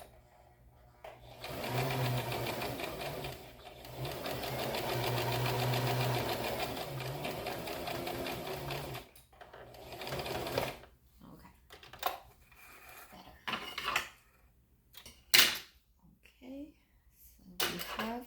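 Sewing machine stitching a pair of pants, a steady continuous whir in two long runs, followed by quieter handling clatter and short bursts.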